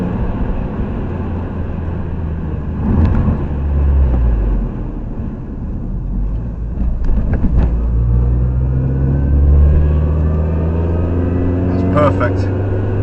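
A Mini Cooper S R53 drives on a test drive after a passenger-side window regulator replacement, with loud in-cabin engine rumble and rising and falling revs through gear changes, and someone speaking over it.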